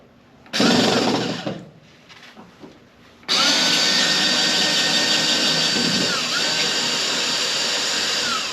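A power drill whirs against stubborn, rusted screws on an old gasser car that won't back out, with a short burst followed by a long, loud, steady high whine as the bit keeps spinning in place.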